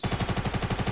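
Rapid automatic gunfire from a video game, a steady rhythmic burst of about a dozen evenly spaced shots, loud and close, with no talking over it.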